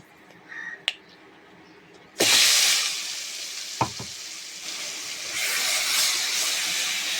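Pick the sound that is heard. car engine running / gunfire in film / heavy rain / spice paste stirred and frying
spice paste stirred and frying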